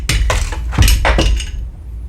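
A torque wrench tightening a part on an AR15/M16 fixed buttstock gives about five close, loud metallic ratcheting clicks in an uneven rhythm, then falls silent.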